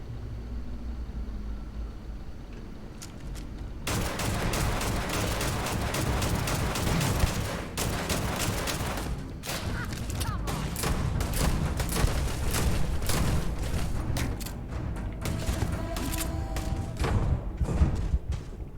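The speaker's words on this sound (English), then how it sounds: "Who else was shooting at me?" Gunfire in the space game Starfield, a dense stretch of rapid overlapping shots and thuds that starts abruptly and continues for many seconds at moderate loudness, with no talk.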